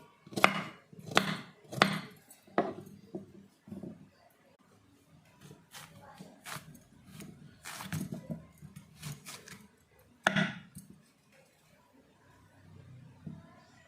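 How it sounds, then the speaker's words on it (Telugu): A knife chops raw Telangana mango into small pieces on a board for mango pickle. The first few seconds bring a quick run of loud, sharp thuds, then sparser, softer knocks with quiet stretches and one more strong chop near the end. "చిన్న చిన్న ముక్కలు ఇట్లా కట్ చేసుకోవాలి."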